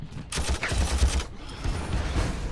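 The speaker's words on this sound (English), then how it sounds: "I'm just going to have our artillery plaster these Gretchens and their buddies there" An artillery barrage in Warhammer 40,000 Armageddon delivers dense, rumbling impacts in quick succession, a loud burst of blasts that eases and then swells again with mechanical clatter beneath.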